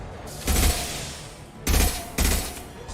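Gunfire in Mass Effect 2 Legendary Edition: three loud, heavy bursts of shots arrive in a spaced rhythm, with quieter game ambience between them and no talking.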